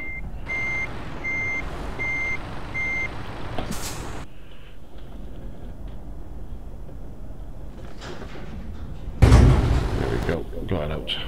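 A truck manoeuvres out of a tight spot with a steady rhythmic reversing beeper sounding over engine rumble, followed by a loud hiss of air brakes near the end.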